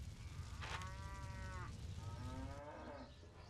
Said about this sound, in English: That's a demon cow.